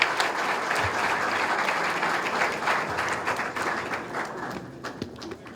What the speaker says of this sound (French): Faudrait-il vous inviter encore une fois à rejoindre vos mains pour applaudir et recevoir notre président, Jocelyn Privet.